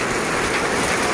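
Rain falling steadily in Sambalpur, a continuous dense hiss of drops with no breaks, fairly close and loud, no voices heard.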